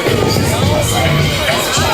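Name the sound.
crowd at outdoor off-road truck event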